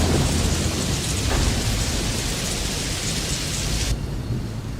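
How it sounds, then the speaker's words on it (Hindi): Heavy storm with hail falling over farm fields, a dense loud roar of pounding precipitation and rumbling thunder that continues steadily, then thins slightly near the end. "अगले दिन रामू पड़ोसी के खेत से गुजरा और उसी रात ओले गिरे और पूरी फसल बर्बाद हो गई"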